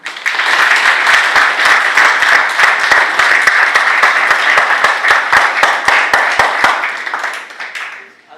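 Sustained applause from a wedding audience at a town hall ceremony, dense rapid clapping that holds steady for several seconds before fading out at the end.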